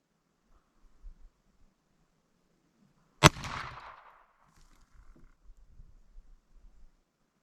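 A single sharp report from a Browning Buck Mark Contour URX pistol during an ammunition test, loud and close, with a short ringing decay and quiet surroundings before and after.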